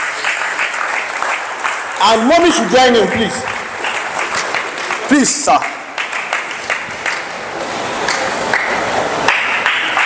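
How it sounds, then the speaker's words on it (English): Guests at a seminar on poultry brooding management clap steadily for a host. The sustained applause runs under someone speaking loudly over an amplified system, with a couple of brief tonal squeaks in between. "A round of applause for him, sir."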